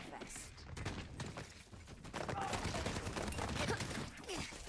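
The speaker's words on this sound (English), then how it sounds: "I'm just shooting randomly." Rapid gunfire from the Overwatch video game, a dense stream of shots close and loud, with a voice talking over part of it.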